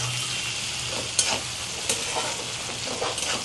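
Chopped onions sizzle and crackle in hot oil in a pan as they fry until red for misal masala, a steady close hiss broken by a few soft scrapes of stirring.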